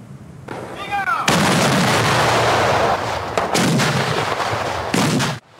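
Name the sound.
traditional Meriam Talang cannon firing on Eid eve, Kuala Kangsar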